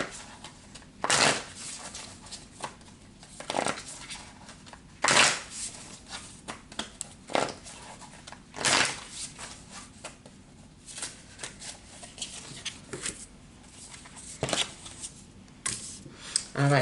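Tarot cards being shuffled in repeated crisp riffling bursts roughly every second or two, close and fairly quiet, with no talking.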